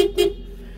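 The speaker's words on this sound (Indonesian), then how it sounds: "dan ini bunyi klaksonnya." Two short, loud car horn honks from a 2021 Toyota Rush GR Sport in quick succession, then a quiet background.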